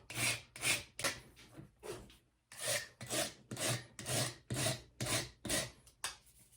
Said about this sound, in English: you can use sandpaper to kind of finalize it and get everything nice and smooth